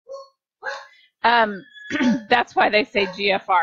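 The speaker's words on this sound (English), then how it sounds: "that's my dog's barking" A dog barking indoors behind a person speaking, the barks mostly buried under steady close talk.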